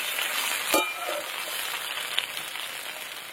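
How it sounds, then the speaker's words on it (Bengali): Taro (mankochu) frying in a pan, a steady close sizzle with oil crackling and a few sharp pops as the pieces cook. "কচু ভাজতে ভাজতেই গলে গেছে"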